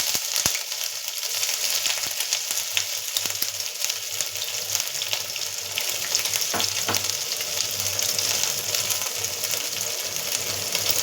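Ginger and green chilli paste sizzles steadily in hot oil, a continuous crackling fry close up with occasional stirring scrapes and clinks, no voices over it.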